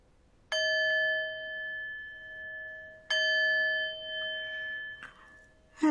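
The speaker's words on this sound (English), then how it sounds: "Just continuing to breathe here with your body, aware of sensations, until you hear the bell." A meditation bell is struck twice, each strike a clear, close ding that rings out and slowly decays over a couple of seconds, with a faint rustle at the end.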